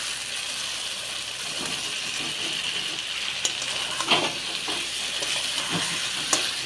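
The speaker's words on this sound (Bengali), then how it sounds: "এবার আলুর সাথে একটু ভালো করে কষিয়ে নেবো।" Potatoes are stir-fried with spice masala in a pan under a constant close sizzle, broken by occasional soft scrapes and clinks of the spatula, with no voices present.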